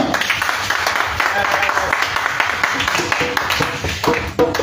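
A congregation at an Easter prayer vigil claps and cheers for Jesus in a loud, sustained wash of applause, with voices mixed in throughout.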